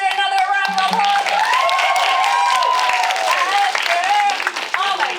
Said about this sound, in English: Let's give Aster another round of applause.